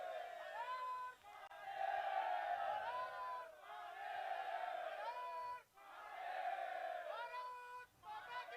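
A crowd at a prize distribution for the Setja Premier League 2025 cricket tournament cheers and shouts in repeated loud bursts, with a sustained roar that surges and dips several times over the clip.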